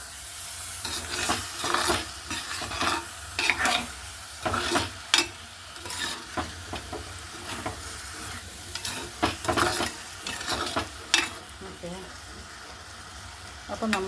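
Anchovy peera is stirred over a high flame, producing a loud, steady sizzle broken by repeated clanking scrapes of a spatula against the pan and some brief voice in the background.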